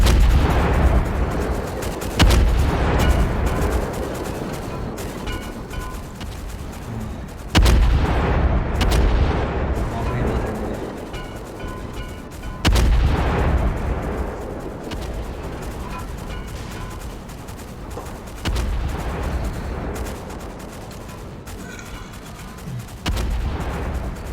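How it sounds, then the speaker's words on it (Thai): Naval cannon fire in the Roblox game Dead Ahead: several loud, booming blasts at irregular intervals, each followed by a rumbling decay, with continuous battle noise between shots and no talking. "มีหน้าที่ยิงก็ยิงไปสิวะ"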